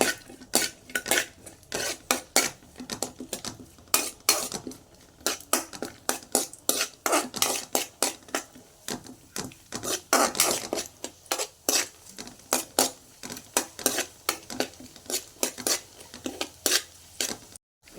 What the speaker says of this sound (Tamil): இது நல்லா வறுத்து எடுத்து வச்சுக்கோங்க.